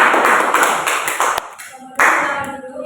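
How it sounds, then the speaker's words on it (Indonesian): Classroom applause for a student group, a burst of many hands clapping close by that fades out, then a short second round, with voices mixed in. "beri aplaus untuk kelompok"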